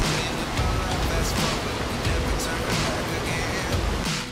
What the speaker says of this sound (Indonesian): Pada tingkatan kedua air terjun ini, berupa sungai dengan kolam air yang terkesan cukup private.